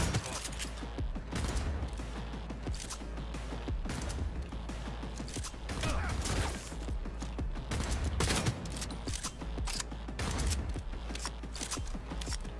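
Rapid gunfire in a Cyberpunk 2077 combat fight, a dense run of clicky shots and mechanical clatter over a low steady hum, at moderate distance with no clear voices.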